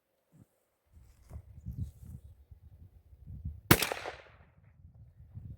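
A .410 shotgun fires a 3-inch Challenger number 6 shell at a target outdoors in brush, one sharp, loud blast near the end, with faint rustling and handling noises before it.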